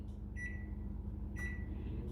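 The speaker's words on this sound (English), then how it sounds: "I'm gonna just put them in my microwave." A microwave oven hums steadily while melting cookie toppings, with two short electronic beep tones sounding over the drone.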